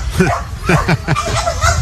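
Several small dogs bark at a campsite during quiet hours, loud yips and bow-wows coming in a quick uneven chain, one weak, strained bark mixed in among the others.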